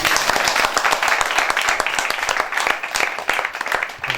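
A congregation at a prayer meeting claps steadily in thanks, many hands producing a dense, continuous wash of applause that stays loud and even throughout.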